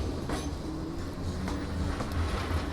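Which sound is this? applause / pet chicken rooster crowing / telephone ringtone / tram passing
tram passing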